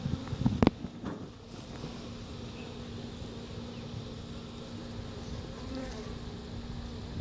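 Honey bees buzz around an open hive frame during an inspection, a faint, continuous drone with a steady hum that carries throughout after a short rustle and knock at the start, with no one speaking.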